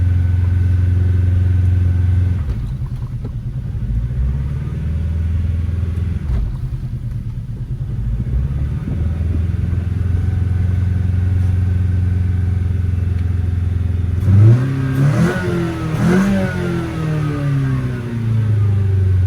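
An abandoned project car's engine, left for 12 years and now fitted with a sticky throttle, idles loudly and unevenly. It rises in a few uneven revs and then settles back, heard up close with no talking.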